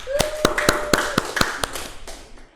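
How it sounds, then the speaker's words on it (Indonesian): Short burst of classroom clapping during a microteaching lesson, a handful of sharp, distinct claps in a loose rhythm, fairly close, with a faint tonal hum beneath and fading out at the end. "Betul sekali, tepuk tangan."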